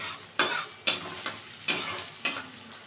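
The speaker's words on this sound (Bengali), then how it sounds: "পেঁয়াজটা একটু ভেজে নেব।" A large onion fries in spice-tempered oil in a pan, a soft continuous sizzle broken by five sharp scraping strokes of a spatula at roughly even intervals.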